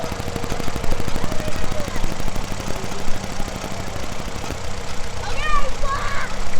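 A 1941 Farmall B tractor engine runs with a loud, rapid, even chugging pulse close by, joined near the end by faint squeaky chirps from a dragging brake; a voice is mixed in.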